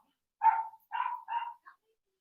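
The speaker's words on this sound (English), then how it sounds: "sorry about my dogs" A few dogs indoors give three or four short, clear barks in quick succession, fairly close, then go quiet with no other sound around them.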